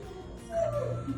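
A golden retriever whimpers indoors, giving a short, faint high-pitched whine amid kitchen background noise with no talk.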